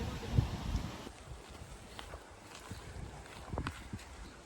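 Gusty wind buffets the microphone with low rumbling bursts, strongest at first, alongside faint water and boat noises outdoors while carp fishing.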